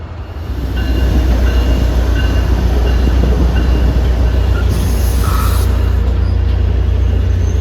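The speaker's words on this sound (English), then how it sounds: "That's train 312." A Caltrain commuter train passes close by trackside, a loud steady rumble of wheels and rail noise that swells within the first second and holds throughout, with a brief hiss partway through.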